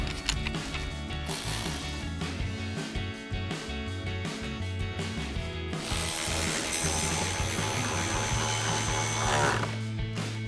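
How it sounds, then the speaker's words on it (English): Ratchet wrench with an extension and 7mm socket tightening bolts on a 2024-2025 Mustang GT chin spoiler, giving rapid, continuous clicking bursts close up with brief pauses, no talking. "So now we'll grab our ratchet, extension, and 7mm socket and install all of our bolts all the way around."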